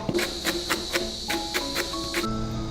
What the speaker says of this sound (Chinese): 取半个洋葱切成碎末